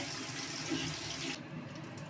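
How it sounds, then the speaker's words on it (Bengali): Featherback (foli) fish sizzles in hot oil, a continuous close hiss that eases slightly toward the end. "মাছগুলো ভাজা হচ্ছে"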